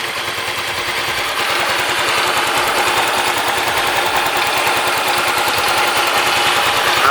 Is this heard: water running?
no